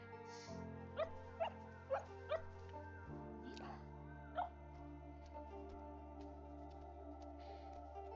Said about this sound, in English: Oh, puppy, puppy, puppy, puppy.